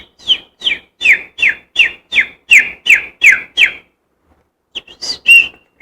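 A person whistles imitation bird calls, a steady run of about ten evenly spaced chirping whistles, then a short pause and three more, loud and close with no talking.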